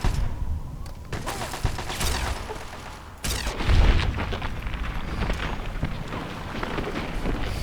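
Gunfire at raiders in Fallout 3, a sustained loud barrage of rapid shots with booming impacts and a heavy blast midway, dense and close, with voices now and then beneath the shooting.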